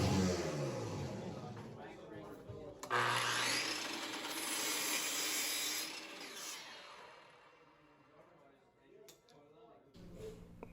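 A handsaw cuts through a piece of 2x3 wood for a roof truss, rough rasping strokes close by that run several seconds, pause briefly, then resume more softly.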